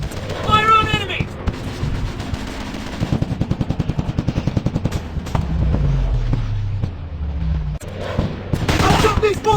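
Guns firing at enemies in the Commando Strike shooting game, with a close, loud burst of rapid machine-gun shots, scattered heavier blasts and a low rumble, mixed with shouted in-game voices.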